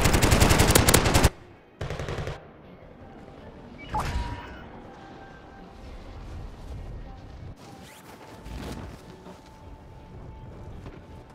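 Machine gun fire in a video game: a dense, loud burst of rapid shots at the start, then a few more scattered shots and crashes against quieter game ambience, with no clear talk.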